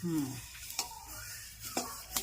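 Black sesame seeds roast and get stirred in a pan, giving a soft continuous sizzle broken by a few sharp scrapes and clinks of the spoon against the metal, with a faint voice near the start.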